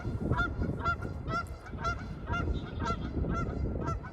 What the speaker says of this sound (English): My friends the geese wanted to be part of this.